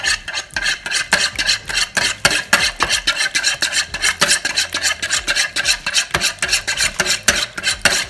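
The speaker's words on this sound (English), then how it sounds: "let me start whisking" A meatball mixture of breadcrumbs, cornflakes and milk is whisked in a bowl, making loud, fast rhythmic scraping strokes that repeat steadily without a break.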